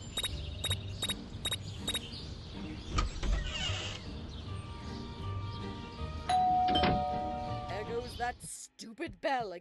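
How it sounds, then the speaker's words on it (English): Doorbell chimes ring out in the Scary Teacher 3D video game, a quick series of bright rings at the start amid game noises and mechanical creaks, followed later by another ring. "Stupid bell again."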